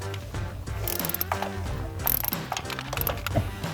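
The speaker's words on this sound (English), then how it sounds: "So just stick it in there and get it on the spark plug, and then we'll loosen it" A ratchet with a 5/8 spark plug socket loosens a spark plug on a 2006-2023 V8 HEMI Charger, giving close, quick bursts of metallic clicking with short pauses between strokes.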